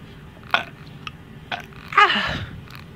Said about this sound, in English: Chica, stop burping.